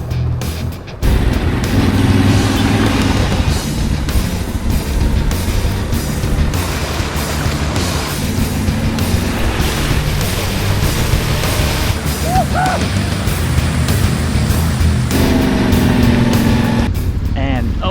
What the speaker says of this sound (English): just the freedom of riding the motorbike